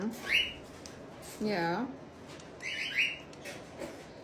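A pet parrot squawks and screeches angrily while being oiled, giving a few sharp, fairly faint calls and whistly squawks spread across a short moment, with a brief murmured word from a person.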